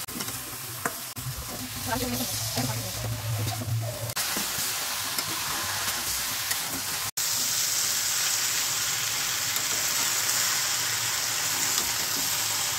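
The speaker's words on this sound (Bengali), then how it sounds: "দিয়ে সবজির সঙ্গে মাছের মাথার সঙ্গে 5 মিনিট মতো কষে নেবো।" Mixed vegetables sauté with a katla fish head in a pan. A continuous sizzle runs under scraping, stirring sounds, with a brief break partway through before a steadier, brighter hiss takes over.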